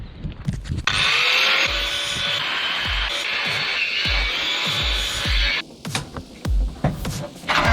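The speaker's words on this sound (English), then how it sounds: "So now we're going to cut the steel." A power tool cuts steel on a fire engine van body, a loud high-pitched cutting whine running steadily for several seconds, framed by sharp knocks and clatter before and after.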